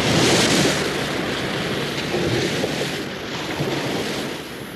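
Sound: beach with ocean waves and wind, audio story effect

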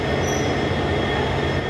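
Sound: passenger train starting to move from Ferozepur Cantt platform

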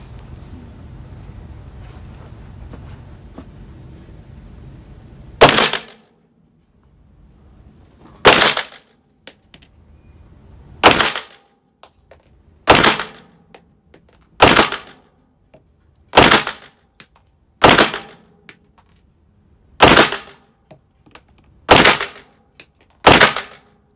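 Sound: shots from Hs SF Match 19 pistol, suppressor-capable

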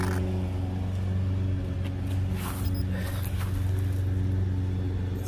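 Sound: ARRMA Typhon 6S RC car driving on GRP tyres

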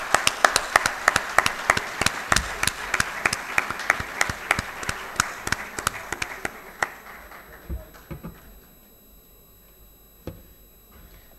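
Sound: audience applause for award recipient

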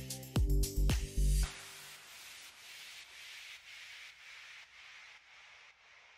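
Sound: sanding edges of napkin decoupage on MDF heart

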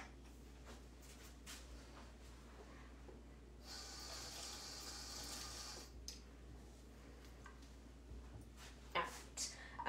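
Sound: washing hands under running tap water

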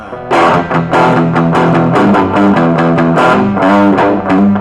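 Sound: electric guitar through distorted amp

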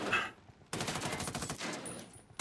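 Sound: gunfire in video game Ghost Recon Wildlands

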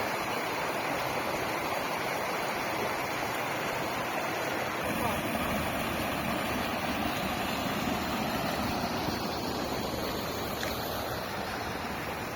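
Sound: babbling stream on the road to Lake Synevyr

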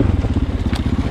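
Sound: Husqvarna FE 501 four-stroke motorcycle engine braking downhill

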